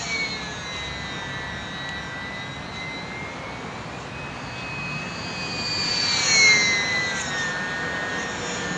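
A Sbach 342 model aircraft flying aerobatics in calm air, including snap rolls: a steady, sustained engine drone at moderate distance that swells slightly in pitch and loudness as it passes, with no talking.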